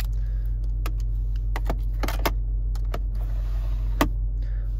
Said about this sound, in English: Unlock, lock, and then trunk release.